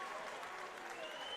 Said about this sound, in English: with a standing ovation